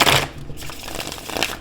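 Quick papery riffling of a tarot card deck being shuffled, a couple of short bursts close by, with no one speaking.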